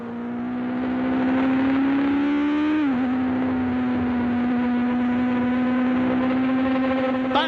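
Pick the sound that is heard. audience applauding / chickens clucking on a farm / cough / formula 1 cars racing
formula 1 cars racing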